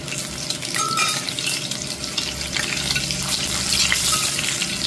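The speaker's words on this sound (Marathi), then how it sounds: "तर आता इथे आपले अंडे छान फ्राय झालेले आहेत बघा" Eggs frying in a pan for a masala egg curry, a steady continuous sizzle and crackle of hot oil running throughout at close range, with no voices.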